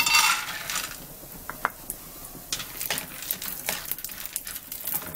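Peanuts frying in a little oil in a hot pan, with light scattered crackles and small clinks of stirring against the pan, fairly faint and close, with no talking.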